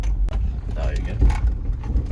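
Interior of a 2001 Honda CR-V rolling over a rough forest road in North Idaho, with a steady low road rumble and occasional knocks and rattles, and people talking over the noise.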